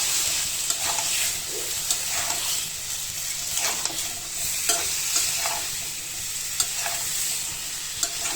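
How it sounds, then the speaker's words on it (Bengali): Malabar spinach stems, potatoes and hilsa fish head being stirred in a pan, a continuous close sizzle broken by regular scraping strokes of a spatula every second or so, loud with no speech. "এখন নেড়ে চেড়ে একটু পানি দিয়ে দিব।"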